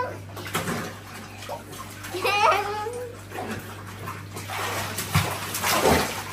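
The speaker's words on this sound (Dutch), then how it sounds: "Het badje, mensen." Water pours steadily into a bathtub over a low constant hum, with a child's babble and a small dog's whimper drifting in midway.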